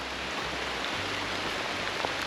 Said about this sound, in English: We've got a bit of heavy rainfall now.